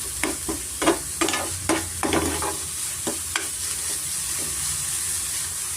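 Carrots sizzling and frying in a pan as milk is poured in, with repeated scraping stir strokes and crackling bursts that settle into a steady, softer sizzle, close up and with no talking.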